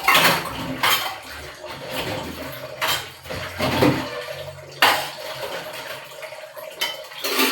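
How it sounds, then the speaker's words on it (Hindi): Dishes, pots and pans being washed by hand in a home kitchen, with repeated clinks and clatters of metal and crockery over running water, loud and close, with no talking. "तो फिर अभी मैं बर्तन धुलने चली हूँ"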